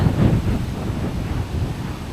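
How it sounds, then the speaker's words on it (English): Strong wind, during a hurricane, buffeting the microphone in a continuous low roar, with gusts rising and falling. "So windy out."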